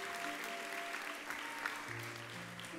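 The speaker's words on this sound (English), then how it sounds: "Can we have another round of applause for Ms. Gonzalez's fifth grade class?" Moderate applause rises from a crowd at an elementary school fifth grade graduation, an even wash of clapping that carries under faint tonal background hum and scattered murmurs.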